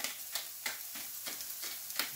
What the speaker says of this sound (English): everything's kind of frying up here